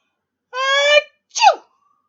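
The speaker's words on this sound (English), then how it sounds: "Achoo!" A single loud, close sneeze with a drawn-out intake followed by a sharp burst, standing alone in a cartoon story about a sea fish.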